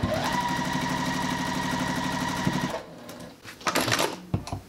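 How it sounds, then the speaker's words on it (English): A sewing machine stitches a foundation paper-pieced pineapple quilt block, its steady rapid mechanical chatter running loud and continuous for nearly three seconds before stopping, followed by brief handling and rustling sounds. "Take it over to my sewing machine and sew on the number 4."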